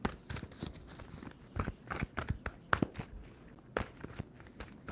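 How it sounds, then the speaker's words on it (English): Tarot cards shuffled by hand in a quiet room, a run of quick crisp riffling snaps and soft slaps in irregular bursts, close and moderately loud. "Two more shuffles for Pisces."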